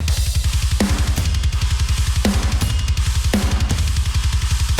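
Final mixed version of a MIDI-programmed drum track: rapid, driving kick drum pulses with punchy snare hits at regular intervals and bright cymbals, loud and steady throughout.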